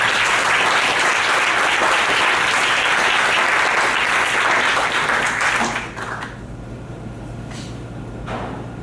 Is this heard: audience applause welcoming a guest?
yes